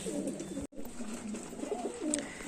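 Big male pigeons, one of them a kalshira, at a pigeon sale give soft, low repeated coos. The calling is fairly close and runs continuously, broken by one brief gap.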